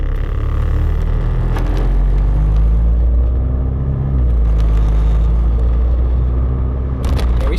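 A Volkswagen GTI drives along a back road near an airport, its engine a steady close rumble with a constant low drone from inside the cabin.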